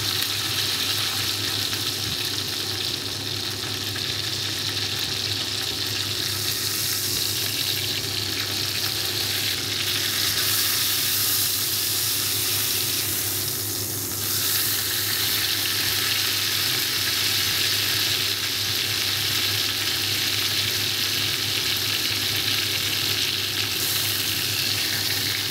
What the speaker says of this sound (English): we can have it cook on the side like this. Just gets the fat cooking.